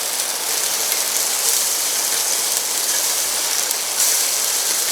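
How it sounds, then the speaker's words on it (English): Heavy rain pours down outside, a dense continuous hiss that holds steady and loud throughout with no voices. "It is starting to really rain hard."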